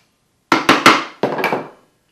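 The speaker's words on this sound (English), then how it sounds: "Put this chisel in my knife line and clear that out." A chisel is driven into a knife-scored line in wood to clear out a mortise for a box latch, five sharp close strikes in two quick groups, each ringing briefly before fading, with no talking.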